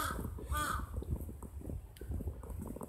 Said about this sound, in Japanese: カラスがたくさんいます。 もうそこら中ですね。